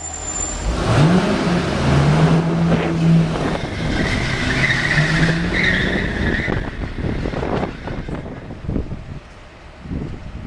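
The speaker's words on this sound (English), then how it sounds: "now squeal your tires around this corner, Andrew." Car tires squeal loudly as a car is driven hard around a corner, a long skidding screech over a revving engine and wind noise, close and sustained for several seconds.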